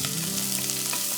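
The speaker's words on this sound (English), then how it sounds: "We will saute the onion first of all with the oil" Finely chopped onion sautés in oil in a pan, a steady, dense sizzle that fills the whole moment with no break, close and fairly loud.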